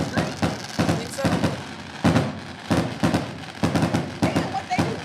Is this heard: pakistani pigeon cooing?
no